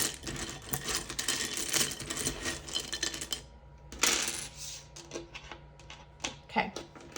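Tiles, charms and small dice clatter and rattle together in a dense, busy jumble, then break into scattered individual clicks and taps near the end.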